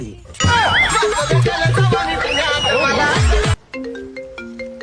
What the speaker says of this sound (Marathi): ए बायकोचा फोन आला जाऊ का मी